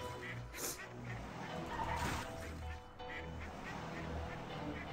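Ducks quack several times in short bursts over a noisy background, with a person talking intermittently nearby.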